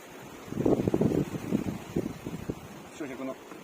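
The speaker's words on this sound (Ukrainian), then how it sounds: "Вітер сильний, да." Gusty wind buffets the microphone in rumbling bursts on a cold morning outdoors on a farm while a person talks over it.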